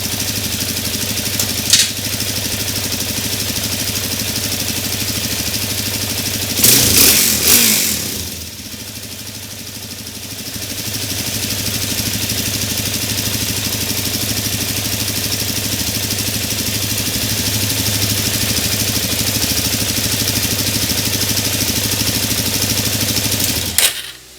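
A 2017 Suzuki DR-Z400 motorcycle engine runs steadily close by after its choke is taken off, holding a loud, even idle with a brief rev near the start, with a few clicks and no speech.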